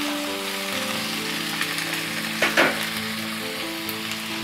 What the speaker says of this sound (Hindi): मैं चाहती हूँ थोड़ा सब चीज़ को सॉटे कर लेते हैं। मैं लिए हैं 2 प्याज, तीन से चार हरी मिर्ची और 4 टमाटर